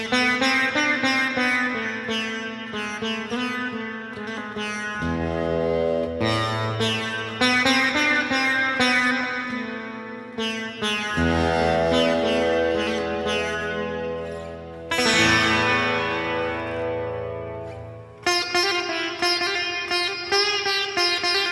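A Danelectro baby sitar electric guitar plays a melodic passage of buzzy, twangy plucked notes and chords with a shimmering, drone-like sustain. Phrases with brief pauses between them run for over twenty seconds at steady volume, with no talk.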